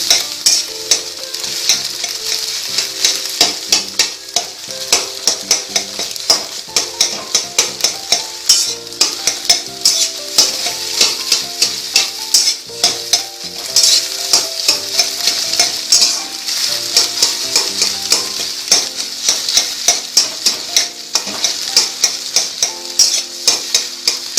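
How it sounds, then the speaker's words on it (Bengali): Egg frying in a pan and stirred until brown for tadka, a loud continuous sizzle with a steady rhythm of spatula scrapes and clinks against the pan, close up with no talk. "একটু ব্রাউন করে ভেজে নেবেন।"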